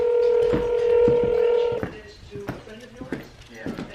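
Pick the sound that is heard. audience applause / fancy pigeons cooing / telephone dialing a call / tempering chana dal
telephone dialing a call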